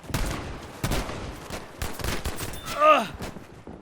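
The M30 Drilling fires a string of sharp, punchy shots at irregular intervals in Battlefield V, with echoing tails between reports and a brief whistling game sound near the end.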